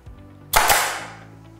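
A Makita AF301 pneumatic air nailer fires a single sharp, loud shot with a brief airy hiss trailing off, close by and alone.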